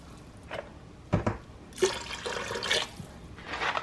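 Beef broth is poured into an Instant Pot in short, close liquid splashes and gurgles, with a soft clunk partway through.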